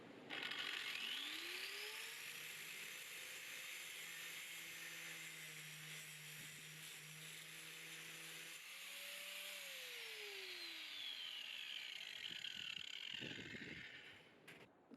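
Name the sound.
winding a nut off a bolt to clean threads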